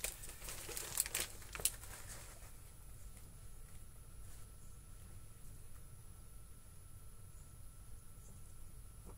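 Plastic packaging on a newly unboxed collectible doll crinkles in a quick cluster of close, sharp rustles early on, then settles into faint background hiss with a few soft scattered crackles.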